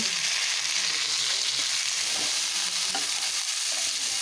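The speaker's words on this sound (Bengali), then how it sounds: "এখন ফুলকপিগুলো একটু লাল করে ভেজে নেব বেশ নাড়াচাড়া করে ভেজে নিচ্ছি" Cauliflower florets fry in hot oil in a kadai while being stirred, giving a steady, loud, continuous sizzle with faint scraping throughout.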